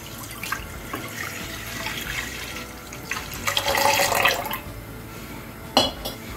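Full cream milk is poured into a kadhai in a few splashing bursts, with liquid sloshing and trickling close up, a louder pour near the middle and a short splash near the end.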